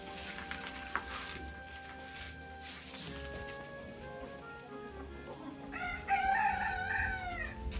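Silkie chickens in a village yard give scattered soft clucks and background chatter, then a rooster breaks into a loud, close crow near the end.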